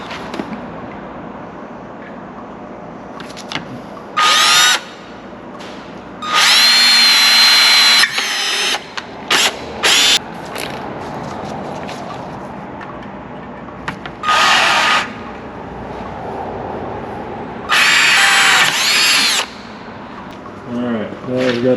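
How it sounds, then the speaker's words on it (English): A power drill bores holes to mount a Stingray hydrofoil, running in repeated loud bursts of a second or several seconds, with pauses between them where someone talks and tools are handled. "So now that we got our first two holes drilled"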